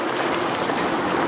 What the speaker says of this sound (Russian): Господи, дождь